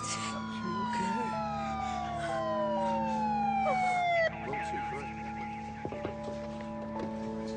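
A wailing ambulance siren sweeps up and down at a roadside accident scene, loud and continuous while voices talk over it, then the tone shifts and drops away as the vehicle passes.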